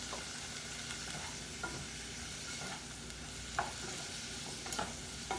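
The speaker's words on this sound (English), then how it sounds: "And you just keep stirring it every so often. And let it cook thoroughly well." Green bell pepper curry sizzles in a pan while being stirred, a steady soft frying hiss broken by several light scrapes and taps of the spoon.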